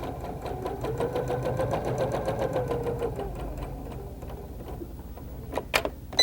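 A sewing machine stitches around a fabric pad with a rapid, steady mechanical chatter that slows and stops near the end, followed by a few sharp clicks, close and alone.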